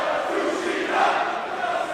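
A live wrestling crowd at a World Cup Finals show cheers in a steady, dense roar of many voices that holds at an even level throughout.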